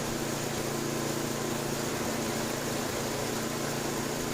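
Murray Estate 8/27 dual-stage snow blower engine running steadily at top no-load speed, a constant close, loud mechanical drone with a low hum and broad hiss and no variation.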